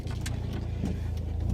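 A front-wheel drive car with a big rear spoiler driving, its engine a steady low hum heard close from inside, with a few faint rattles.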